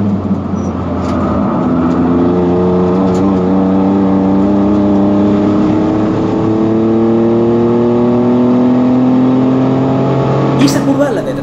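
Mini Cooper race car on a circuit during an official race, engine revving loudly and steadily under acceleration with rising turbocharged tone, heard close from onboard, continuous for the whole stretch.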